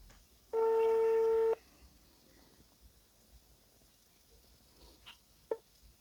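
A single telephone line tone, about one second long and steady, sounds near the start of an outgoing call, followed by a quiet, faintly hissing line.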